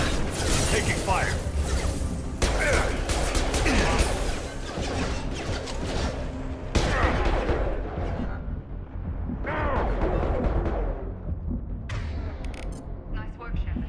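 Combat in the sci-fi shooter Mass Effect 2: a steady clatter of weapon fire and mechanical impacts, with sharp cracks and bursts scattered through a busy mix, and voices speaking over parts of it.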